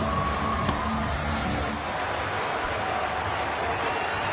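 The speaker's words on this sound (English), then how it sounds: "They all clapping as Curran runs in" A cricket crowd at a South Africa versus England match in East London claps steadily as a bowler runs in, a dense, continuous wash of applause with a faint voice beneath.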